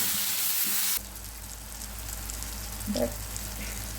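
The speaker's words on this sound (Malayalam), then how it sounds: "ഇപ്പം നമ്മൾ ഗരം മസാല ചേർക്കാം. ഞാൻ പൊടിച്ചിട്ടില്ല. ചേർത്ത് വഴറ്റ് കൊടുക്കുക." Garlic, ginger and garam masala sautéing in a pan for a Kerala crab roast, a steady soft sizzle after a loud hissing burst at the start, with a brief stir clatter near the end and no talk.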